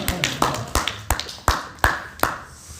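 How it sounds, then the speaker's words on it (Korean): Sparse, sharp hand claps at a church worship service, about eight distinct claps spaced unevenly, close and fairly loud with room reverberation and faint voices between them. "박수 주세요."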